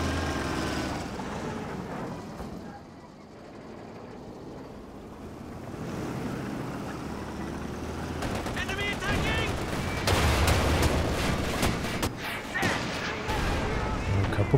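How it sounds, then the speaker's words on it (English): Bazooka shots and gunfire in a Company of Heroes 2 match, scattered bursts and sharp reports within a noisy wash of battle ambience, with commentary talking over them. "Good bazooka shots in there."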